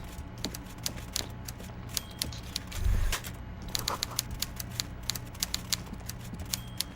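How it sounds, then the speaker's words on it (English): Rapid, uneven keyboard tapping from a Disco Elysium office scene, with many quick clicks in an irregular rhythm and one brief low thump partway through. "I hear tapping and tapping away at keyboards"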